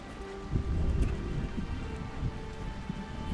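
Steady rain in the pirate tavern game Tavern Master: Pirates Retreat, a continuous hiss with low rumbling beneath, even and moderately loud, no talking.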